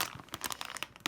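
A plastic bag crinkles close by in a messy home, a quick burst of soft, irregular rustling crackles, faint and alone for about a second.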